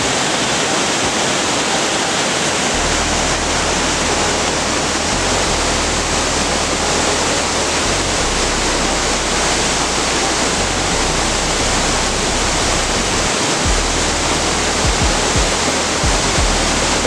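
Waterfall on the Zacate river near La Merced del Potrero, Oaxaca, heard from a distance as a steady, loud, broadband roar of falling water that continues unbroken throughout, with a faint low rumble underneath.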